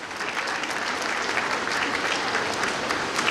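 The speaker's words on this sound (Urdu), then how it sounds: "زوردار تالیاں سسٹر جی کے لیے دیکھیں" A church congregation during an Easter night service claps steadily and loudly, a dense, even wash of applause that fills the whole stretch without a break.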